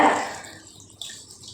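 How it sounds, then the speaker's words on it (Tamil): A short splash of water poured into a mixer jar of rice, quickly trailing off into quiet with a faint drip near the end. "2 கப்பு தண்ணி சேர்த்துக்கோங்க."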